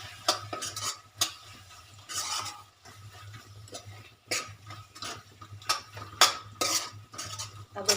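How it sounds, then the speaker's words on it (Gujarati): A spoon scrapes and clinks against a pan as whole garam masala is stirred into paneer gravy, with repeated uneven close strokes and a steady low hum beneath, no voices. "હવે બધું મિક્સ કરી લેવાનું."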